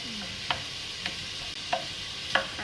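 Chicken browns in a hot frying pan with a steady, even sizzle. A few soft clicks or scrapes sound at regular intervals, and no one speaks.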